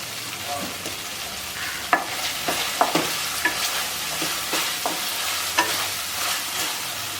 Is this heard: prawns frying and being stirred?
yes